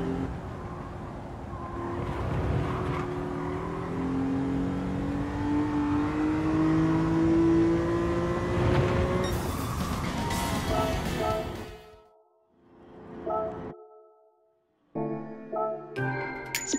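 Nissan 370Z racing around the Tsukuba circuit in Gran Turismo 7, engine droning and rising through the gears with steady pitch sweeps, then dropping off sharply under braking before brief revving bursts near the end.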